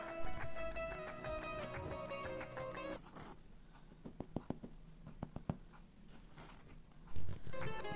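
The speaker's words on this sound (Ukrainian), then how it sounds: "Так звучить хліб, коли він гарно пропечений." A well-baked wheat-rye loaf, fresh from a 180-degree oven, is tapped repeatedly. Music plays first, then a series of short, dry, hollow knocks follows at an uneven pace, close by and moderately loud.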